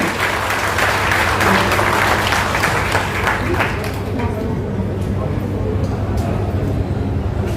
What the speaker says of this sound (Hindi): आपकी तालियों के बीच आपकी तालियां जोरदार रखी